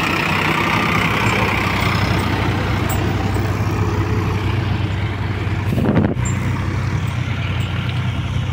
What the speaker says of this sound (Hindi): वीडियो देखियो ट्रैक्टर की परफॉर्मेंस